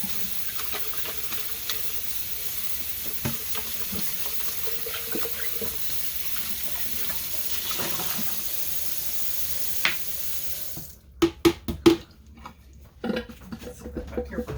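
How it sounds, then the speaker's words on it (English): Running tap water pours steadily into a bucket while it is rinsed out for cold process soap making, a continuous rushing wash that cuts off near the end, followed by a few brief knocks and clatters. "we're going to rinse this bucket out"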